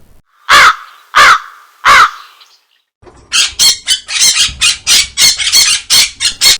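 A crow caws loudly and close by: three separate harsh calls, a brief pause, then a rapid run of about a dozen shorter, raspy caws.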